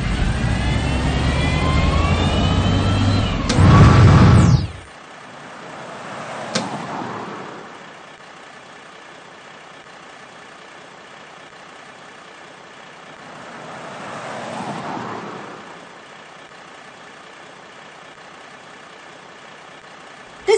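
Engine of a cartoon bulldozer in a digger video game, moving dirt into a hole where a tree was dug up: a loud burst at the start, then a low steady rumble that swells twice and fades away.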